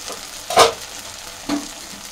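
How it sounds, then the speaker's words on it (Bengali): Chicken pieces being dry-fried and stirred in a pan with greens stalks nearby, two short scraping stir strokes with brief sizzle bursts over a quiet low sizzle, close and alone with no talk. "এবার আমি এরকম করে ভালো করে শুকনো করে কষে নেব।"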